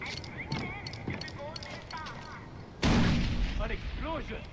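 An explosion erupts in Far Cry 4 on the Xbox 360, a sudden loud blast that rolls into a sustained rumble, with game sounds and a person talking around it.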